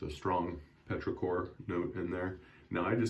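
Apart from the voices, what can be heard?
No everyday noise stands out behind the speech.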